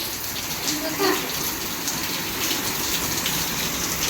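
Rain falling steadily, a close broadband patter and splash of water with a brief voice near the start.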